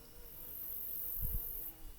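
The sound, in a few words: bees buzzing in a garden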